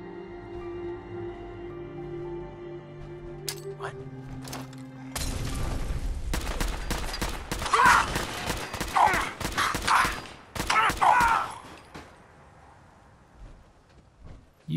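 Light machine gun in Fallout 4 fires in long rapid bursts, loud and close, with shorter single shots earlier and gaps of quiet between volleys.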